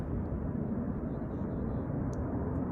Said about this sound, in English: That is the sound of gas exiting a pipe at high pressure and then in burning once it reaches contact with the flame.